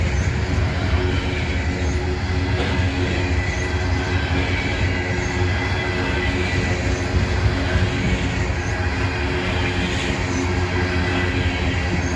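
A northbound freight train rolls past close by in a loud, unbroken roar of wheels and cars, with steady rumbling and the occasional squeal of wheels on rail running throughout.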